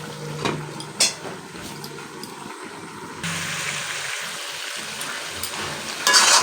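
Metal pot lid set over a pot of mutton curry on the stove, a couple of sharp clinks early on, followed by steady hissing and sizzling from the covered pot.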